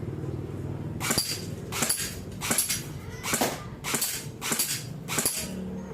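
An HK416 airsoft rifle set to 550 FPS fires six sharp, evenly spaced single shots, roughly one every 0.7 seconds, during a precision zeroing test. Each report is close and crisp with a quick decay. Low room noise sits underneath, and nobody speaks.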